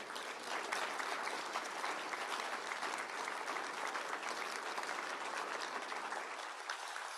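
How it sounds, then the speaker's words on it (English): Sustained applause fills a university hall at a Black History Month celebration, a steady even wash of clapping from a large audience that holds throughout without voices. "let's give Dr. Condell one more big round of applause"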